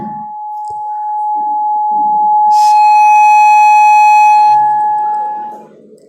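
An electronic alarm goes off during a live religious lecture, a steady high beeping tone that swells and holds for several seconds, with a brighter harsh burst partway through. Faint voices sound around it.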